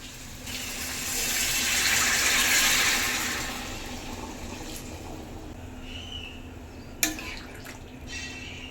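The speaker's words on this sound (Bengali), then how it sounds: "গরম জল দিয়ে দেবো এখন।" Hot water is poured into a pot of mutton curry, a loud gushing splash that swells over a couple of seconds and then eases, with a small clatter near the end.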